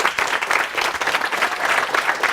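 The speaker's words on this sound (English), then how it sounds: "please clap it up for Wiktor." An audience at a talk applauds steadily, a dense, close wash of many hands clapping that stays even throughout.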